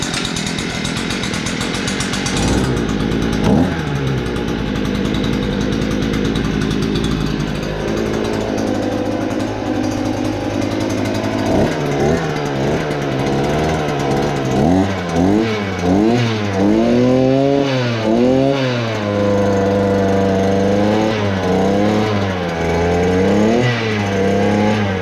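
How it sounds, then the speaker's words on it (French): A petrol Lidl garden power tool, a hedge trimmer, pole pruner or brushcutter, runs with its small two-stroke engine first at a rough, buzzing idle, then is revved repeatedly in rising and falling surges, loud and close, with no speech. "tu laisses tourner un petit peu et après tu viens accélérer pour enlever le starter"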